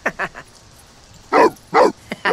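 A German shepherd in The Sims 4 gives two loud, close barks a moment apart, preceded by a few softer, quicker yips.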